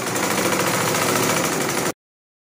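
A sewing machine runs fast and steady, stitching down turban band pieces with a loud, continuous mechanical whir up close, then stops abruptly after about two seconds.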